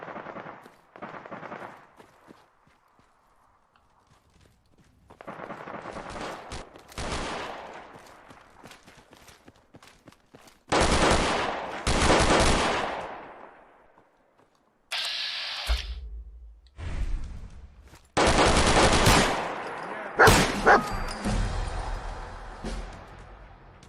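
Gunfire in a modded Fallout 4 game, arriving in separate bursts of rapid shots and heavy bangs with quiet gaps between them, some loud and close, others fainter.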